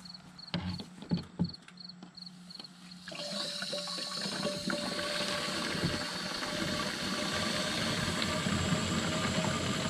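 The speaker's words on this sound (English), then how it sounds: "Now we're going to fill it up to 1 gallon." Water is poured into a garden sprayer tank to fill it to one gallon. A few faint clicks and knocks come first, then a steady rushing pour begins partway through and continues, growing slightly fuller. No one speaks.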